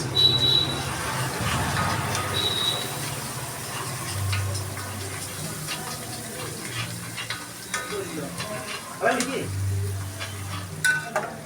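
Chopped shallots and ginger paste sizzle in a pan while being stirred, a soft continuous frying crackle with scraping strokes and occasional utensil clinks against the pan, fairly close.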